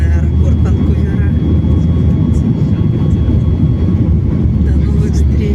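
Airplane taking off from the Vancouver airport runway, a steady loud roar of engines building with heavy low rumble throughout, with voices talking over it.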